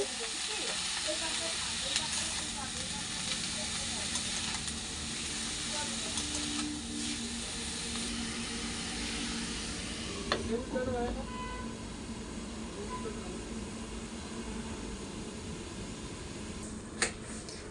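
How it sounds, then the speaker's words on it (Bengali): Fish head and cabbage cook in a covered pot over a medium-low flame, giving a steady, soft sizzle and hiss throughout, with a few brief clinks near the end and faint talk in the background. "এগুলো ভালো করে নেড়ে একে মিডিয়াম টু লো ফ্লেমে 2 মিনিটের জন্য আমি ঢাকা দিয়ে ছেড়ে দেব।"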